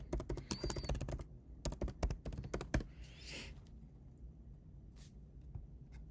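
Password being typed on a computer keyboard at a Windows terminal: rapid clusters of close, crisp key taps in bursts, pausing briefly, then a few scattered clicks near the end, with no talking.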